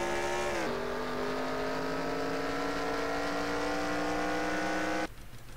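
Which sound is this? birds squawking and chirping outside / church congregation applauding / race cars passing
race cars passing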